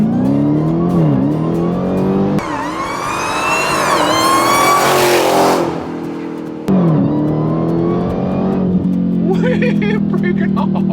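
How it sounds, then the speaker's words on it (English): A 1000-horsepower Dodge Demon 170 doing a hard burnout in a dealership parking lot, its engine revving loud and close, rising to a screaming peak, dropping off, then roaring again as the tires squeal. "burn out as hard as you can in the parking lot of the dealer in which you purchased that car"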